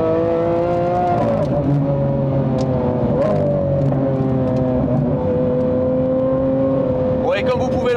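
A Lamborghini Aventador SV fitted with a full aftermarket exhaust and an engine remap holds a loud, smooth, sustained engine tone whose pitch drifts slightly, ending with a brief higher burst.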